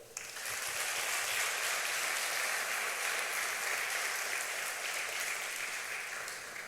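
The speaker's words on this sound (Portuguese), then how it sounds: "dê um forte aplauso a ele" A church congregation claps steadily and densely, a loud, even wash of applause sustained for several seconds without talk.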